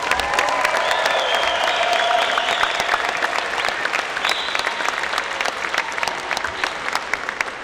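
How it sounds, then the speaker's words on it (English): A large audience at the Giving Machine launch event in Kansas City applauds, a dense sustained wash of clapping with light cheering and a few whistles, loud and continuous. "I ask you to give Tammy Reed and Tavia Hunt a round of applause."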